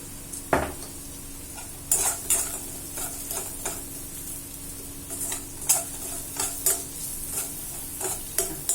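Onions with salt sautéing in a pan, a soft steady sizzle punctuated by repeated metal spatula scrapes and clinks against the pan, close up and rhythmic, with no voices.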